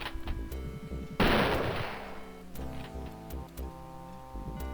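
Wolfenstein rifle gunfire: one loud, sharp shot with a long decaying echo, followed by a few softer clicks and thuds over steady game background sound.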